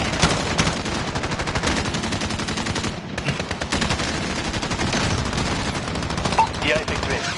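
Video game combat with relentless rapid gunfire and explosive missile shots, dense and loud throughout, with occasional radio-style voice chatter mixed in.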